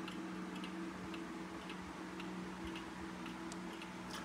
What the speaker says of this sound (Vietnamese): em xin test cho các bác nghe âm thanh của chiếc đồng hồ VDS 37 này các bác nhé